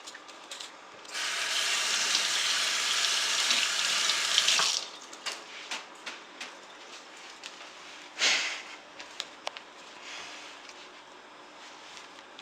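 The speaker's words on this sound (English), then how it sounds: "People know how to wash hands" Hands being washed under a running kitchen tap: a steady rush of water for about four seconds, then scattered splashes, drips and rubbing as the flow stops and starts, close and fairly quiet, with no speech.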